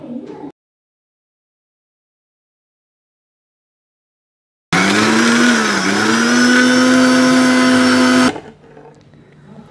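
A kitchen mixer grinder whirs loudly and steadily for a few seconds, grinding a hair-care mixture with rice water, starting abruptly after a silent gap and cutting off just as suddenly, leaving faint background noise.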